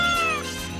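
A cat meows in a mobile video game, a clear, fairly loud drawn-out cry that falls in pitch and plays alone with game sounds behind it.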